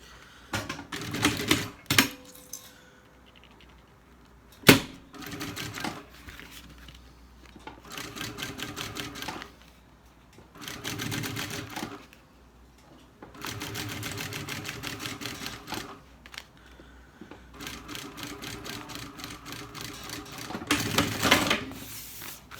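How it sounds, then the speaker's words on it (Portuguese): Sewing machine stitching a fabric beach bag, running in several bursts of rapid mechanical stitching separated by short pauses and small clicks, close and fairly loud, with no talking. "Agora vem do meio pra fora e termina de costurar."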